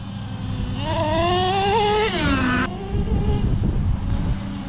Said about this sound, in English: I'm gradually giving it throttle for about 2 seconds at half throttle.